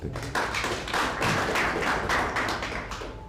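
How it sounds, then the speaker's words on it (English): Audience applause at a Multimedia University of Kenya ceremony, a dense, steady wash of many hands clapping that stays loud throughout without voices. "We may clap for that."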